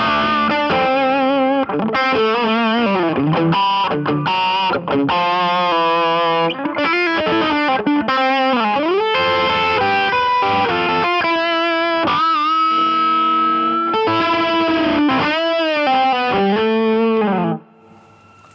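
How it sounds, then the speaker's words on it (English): Electric guitar driven through a Mojo Hand FX Sacred Cow overdrive pedal on the bridge pickup with tone raised, playing a continuous gritty overdriven riff with bends and chords for about seventeen seconds, loud and close, ending abruptly. "Great overdrive pedal."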